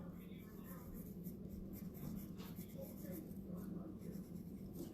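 A pencil scratches steady lines across paper in a drawing lesson with everyday supplies, a soft continuous rasp, while a person speaks quietly throughout.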